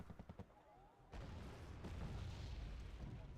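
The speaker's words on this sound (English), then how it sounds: "The mortars are flying." Mortar fire in the strategy video game Wargame Red Dragon: a quick run of sharp thuds, then a loud, dense, rumbling barrage of blasts that carries on steadily.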